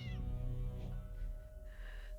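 A cat meows in the video game Impostor Factory, a faint, drawn-out tonal mew followed by softer, wavering cries, heard alone without talking.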